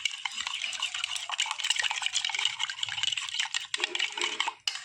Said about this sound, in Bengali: দইটা আমি একটু ফেটিয়ে নেবো